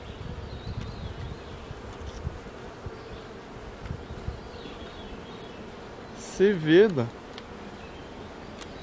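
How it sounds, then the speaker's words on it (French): Honeybees buzzing steadily throughout a hive's upper box during an inspection after a colony merger, a low continuous drone with a voice speaking briefly near the end. "Alors les abeilles s'y promènent un petit peu"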